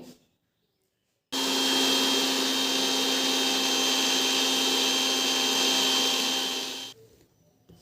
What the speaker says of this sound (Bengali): এবার এর ভিতর আমি দিয়ে দিচ্ছি কিছুটা জল এবার আমি এটাকে মিক্সিতে ঘুরিয়ে নিই